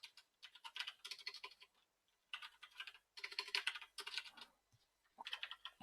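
Steady bursts of fast typing on a computer keyboard while entering database field names, with short pauses between runs of clattering keys, close-up and moderately quiet.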